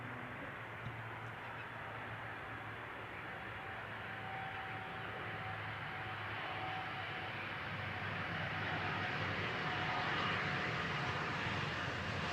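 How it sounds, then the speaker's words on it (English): KLM airliner landing at Amsterdam Schiphol without reverse thrust, a steady broad roar of jet engine and rushing air that swells slightly as it passes, heard alone outdoors. "Now here is a typical KLM landing. No reverse thrust,"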